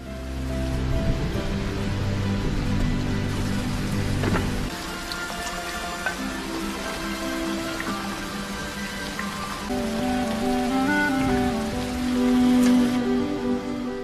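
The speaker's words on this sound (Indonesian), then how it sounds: "Di saat itu Surya mendengar suara gemericik air yang rupanya hujan turun" Steady rain falls continuously, with a dense patter of drops on surfaces and a low rumble underneath; no voices.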